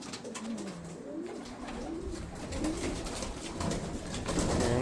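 Racing pigeons in a loft give soft, repeated cooing in a moderately quiet setting. The cooing carries on throughout over faint background noise.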